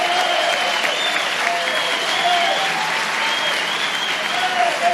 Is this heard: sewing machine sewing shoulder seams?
no